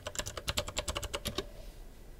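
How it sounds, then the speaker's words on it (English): Password typed on a laptop computer keyboard, a quick run of about a dozen crisp, close key clicks in an uneven rhythm, then quiet room tone. "enter your password"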